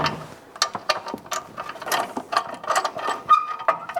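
A ratchet clicks in quick, uneven bursts while removing a bolt during clutch replacement on a 1967 Chevrolet Corvette, close and crisp with small metallic taps between strokes and no talk.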